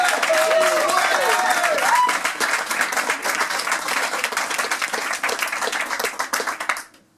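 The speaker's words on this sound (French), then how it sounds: "Je vous demande d'applaudir Charlotte." Audience applause at an improv show, dense clapping from a crowd that holds steady for about six seconds, thins, then stops abruptly; a brief voice or whistle-like sound rises near the start.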